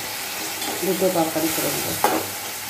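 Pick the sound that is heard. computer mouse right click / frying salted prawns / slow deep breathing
frying salted prawns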